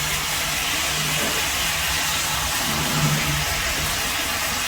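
Bottle gourd, tomato and ginger sizzling in hot oil in a pan, a steady broadband hiss of frying that runs evenly throughout without talk.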